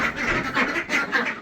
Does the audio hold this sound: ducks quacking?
yes